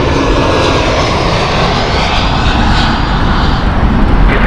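An ITA Airways Airbus A320 jet on the Milan flight roars loudly and steadily at an airport, a broad dense engine rumble with a hissing top end and no gaps.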